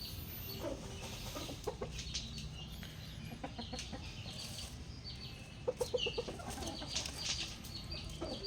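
Backyard gamecocks on a farm, clucks and short crowing calls from the fowl, quiet and scattered, with a few sharper bursts among faint background noise.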